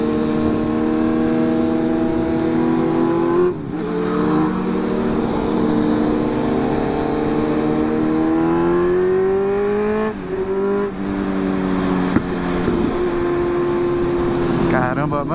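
Motorcycle ridden on the road, its engine a sustained close drone whose pitch climbs through gears with brief dips at shifts, alongside steady wind noise.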